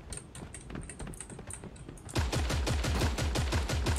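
Gunfire in the video game Creative Destruction starts as lighter, ticking shots and then becomes a loud, steady automatic stream of fast, evenly spaced rounds that pounds on without a break.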